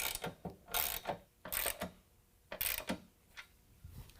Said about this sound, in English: again pushing up on the board and tightening down our 3 flange nuts